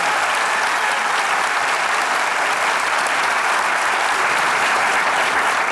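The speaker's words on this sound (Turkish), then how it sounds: "Kocaman alkışlar." A studio audience at a Turkish comedy show breaks into loud, dense, continuous applause that stays at full strength from start to finish with no voices on top.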